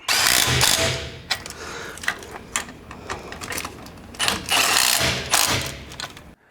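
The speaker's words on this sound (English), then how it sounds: "when you go to tighten them, it's a 13mm socket" A ratchet with a 13mm socket tightens axle bolts during a 4-inch lift kit install on a 2019 or newer Chevy half-ton truck, with loud rapid clicking bursts and pauses between strokes.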